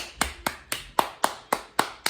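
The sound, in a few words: hand clap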